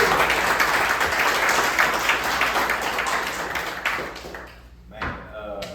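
A speech audience gives a warm round of clapping for the speaker, steady and full before tapering off, then a voice begins over the fading claps.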